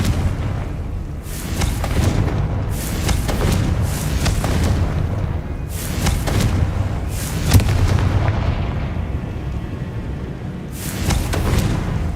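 Repeated fiery blasts from the Confringo spell in Hogwarts Legacy, a burst every second or so over a low rumbling game soundscape, loud and steady throughout.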